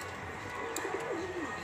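Pigeons coo softly in a cage while drinking water, a single low warbling coo rising and falling near the end over steady background hiss.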